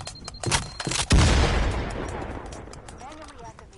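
Gunfire in the video game Firewall Zero Hour on a dark web map: a few sharp shots, then a heavy boom decaying into a long rumbling tail, with faint game sounds afterward.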